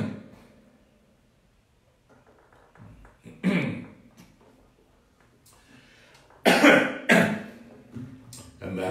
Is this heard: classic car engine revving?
no